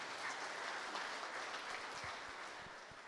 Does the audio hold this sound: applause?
yes